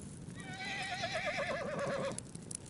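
A horse gives a loud, close whinny lasting around a second and a half, its quavering call rising and falling before stopping abruptly, with faint hoof thuds in the background.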